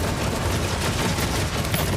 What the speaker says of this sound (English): you hop into the game and you start shooting